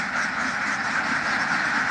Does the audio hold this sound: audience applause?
no